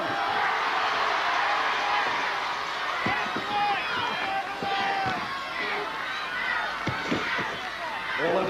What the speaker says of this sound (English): Give Bournemouth a cheer to help them along.